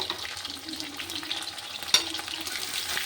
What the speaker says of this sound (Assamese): পিঁয়াজখিনি অকণমান সময় ভাজি লৈ যেতিয়া ব্ৰাউন কালাৰ আহিব